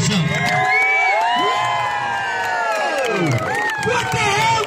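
A large outdoor crowd at Huntington Beach Pier cheers, whoops and shouts continuously, with children's voices and whistles rising over a dense roar of noise.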